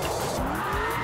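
Ford Mustang RTR sliding sideways in a racing game, a brief squeal of tires rising in pitch over the engine's rumble, close and continuous for about a second.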